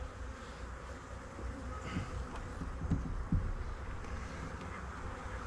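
Dark bees hum steadily around an open hive as it is worked, a dense, continuous buzz with a few louder passes close by, no talking.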